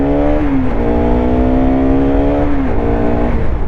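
A seven-year-old Bajaj Pulsar RS 200 BS3 motorcycle engine revs close by, loud and harmonic, climbing in pitch, holding a high rev, then dropping back down.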